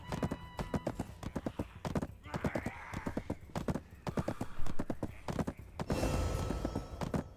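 Rhythmic clip-clop of horse hooves during riding in the video game Black Desert, with a whinny partway through. Steady and fairly close throughout, sometimes under faint talk.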